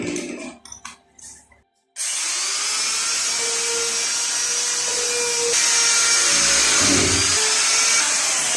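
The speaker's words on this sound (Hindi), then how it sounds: "ये पिन ग्राइंडर के आगे स्टोन लगाया हुआ है।" A pin grinder fitted with a stone bit shapes a fiberglass door panel, giving a steady, loud high-pitched whine that runs continuously after a brief quiet start, with slight changes in pitch as the stone presses into the material.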